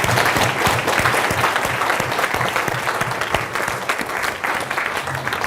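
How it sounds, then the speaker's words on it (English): A room full of people claps loudly and steadily for several seconds during a Q&A gathering, dense overlapping hand claps forming a continuous wash with a few sharper individual claps near the front. "the first thing I wanna do is give you a big applause,"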